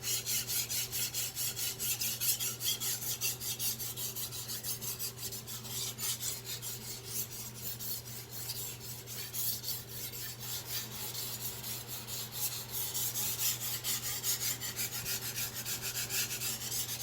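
A Victorinox 8-inch chef knife is stroked steadily across Chosera whetstones, a continuous gritty rasping and rubbing that keeps an even pace throughout, close and alone with no voices.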